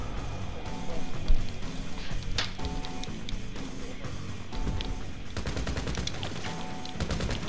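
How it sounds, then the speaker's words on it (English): Rapid gunfire in GTA Online cage fighting, sustained automatic bursts and single shots crackling close and loud, with a steady game background underneath. "I'm shooting in the wrong direction"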